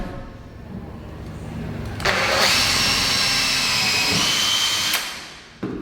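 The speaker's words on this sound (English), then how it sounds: "Pre-drill." A power drill pre-drills through hardwood flooring near tile, whining at steady speed for several seconds, then bites harder and rises in pitch before cutting off, with brief tool clatter at the end.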